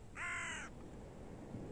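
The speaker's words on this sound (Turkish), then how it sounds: "Ama sesini duyduğunuz o kargalar 4 metre kanat açıklığına falan sahip." A crow at a beach gives one loud, harsh caw of about half a second, followed by low rumbling ambient noise.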